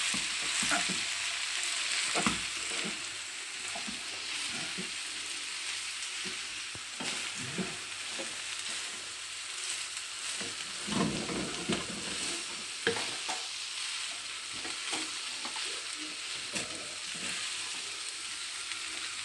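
Nigerian fried rice is stirred and turned in a frying pan, a continuous soft sizzle broken by repeated scraping strokes of the spoon, fairly faint and with no voices.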